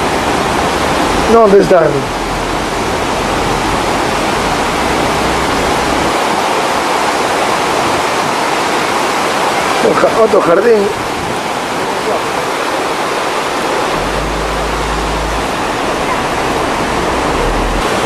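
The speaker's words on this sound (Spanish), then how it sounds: "Y sigue bajando el río." A rushing river pours steadily downhill in Andorra la Vella, a loud continuous roar of water filling the whole stretch while people briefly talk over it.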